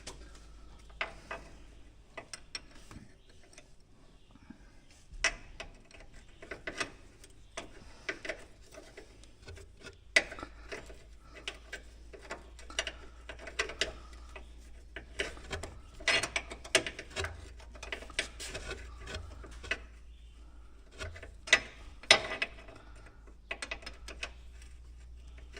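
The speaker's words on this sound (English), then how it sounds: "then I get my Allen wrench with a ball end on it. I'll go ahead and we'll tighten that up." A ball-end Allen wrench tightens a fastener during a full service on a 2022 Polaris Ranger 500 EFI, giving sparse, irregular metallic clicks and ratcheting ticks close by over a low hum.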